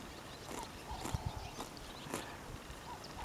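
A horse's hooves clip-clop in a few slow, uneven steps on firm ground during training, fairly close and clear, with no talking over them.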